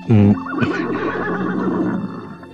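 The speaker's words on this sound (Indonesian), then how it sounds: "Nah, itu ada suara kuda di luar." A horse whinnies loudly outdoors in a short burst, followed by a long, wavering neigh that trails off.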